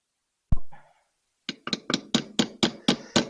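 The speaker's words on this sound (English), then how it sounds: "We're going to get a hammer and see if we can tap that out" A single sharp knock, a brief pause, then a quick run of about eight hard hammer taps in a steady rhythm, close and crisp.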